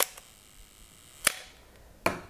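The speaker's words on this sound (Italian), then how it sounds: "l'otturatore meccanico sentite" The mechanical shutter of a Pentax MX film camera fires in sharp, dry clicks, two main snaps about a second apart after a faint first one, close and alone in a quiet room.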